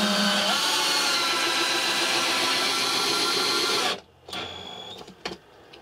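Power drill driving screws into wood on a camper van self-build, a loud continuous whirring motor for about four seconds that cuts off abruptly, followed by a few brief short bursts and clicks.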